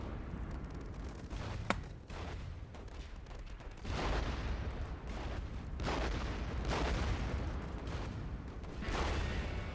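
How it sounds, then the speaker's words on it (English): Mortar and artillery fire in a World War One video game, a running barrage of distant booms and rumbling blasts in overlapping waves, with one sharp crack early on. "I'll even throw basic mortars at it"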